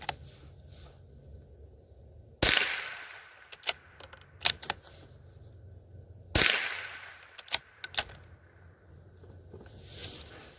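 A Howa M1100 .22 LR rifle fires through a magazine, sharp loud cracks spaced a few seconds apart, each followed by brief ringing echo, with smaller clicks and handling noises between shots.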